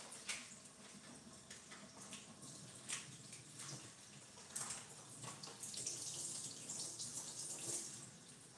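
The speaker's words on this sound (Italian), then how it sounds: "Bisogna semplicemente sciacquarla così per far sì che l'acqua, il latte, il siero" Running tap water splashes as mozzarella is rinsed in a kitchen, a close, fairly quiet gush that shifts and spatters as the cheese is turned under the stream, with no talk over it.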